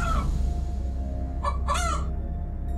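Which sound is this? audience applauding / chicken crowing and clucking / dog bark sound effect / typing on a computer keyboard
chicken crowing and clucking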